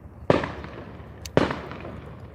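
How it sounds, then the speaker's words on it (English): Two sharp fireworks bangs outdoors about a second apart, each with a long rumbling decay, moderately distant. "oh Lord, somebody's setting off fireworks"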